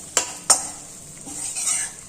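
Flour roasting in ghee for a traditional Gujarati magaj sweet, a spoon scraping and clinking twice against the pan at the start, then softer stirring over a faint sizzle.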